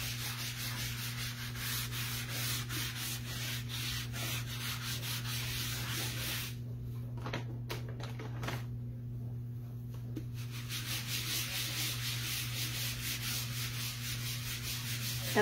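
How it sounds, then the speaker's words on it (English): Scrubbing chalk paste off a silk screen stencil with a board eraser on a reclaimed diagonal pallet board Christmas sign, a steady close rubbing and sanding texture that runs continuously with a brief lighter stretch midway. "So I basically want to remove all the chalk paste off of the silk screen"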